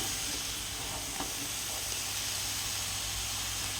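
Mango pickle mixture made with Moovandan mangoes and vinegar, stirred as it heats in a pan, giving a steady sizzle and hiss with soft scraping throughout, close and alone.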